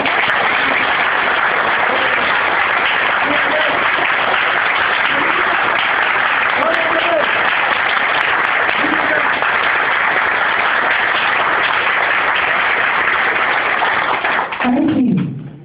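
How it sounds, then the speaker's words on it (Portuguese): Church congregation applauding steadily and loudly for about fifteen seconds, a dense continuous wash of many hands with faint voices beneath, ending abruptly. "Essas palmas foram minhas. Eu quero ver para o nosso Jesus agora, amém?"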